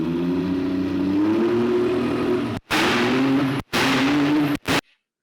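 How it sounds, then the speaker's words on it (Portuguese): A rally car engine with ignition cut on gear shifts drones steadily, then cuts out abruptly three times in quick succession as it shifts, each break followed by a loud surge, close and with no voices. "tem uma função muito legal nesse carro, que é o corte na hora da troca de marcha"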